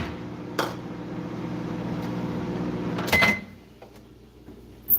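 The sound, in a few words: microwave oven running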